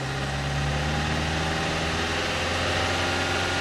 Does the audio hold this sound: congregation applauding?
no